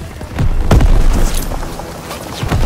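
A grenade explodes in a World War II combat game, a loud deep boom with a rumbling tail up close, followed by lingering low battle noise.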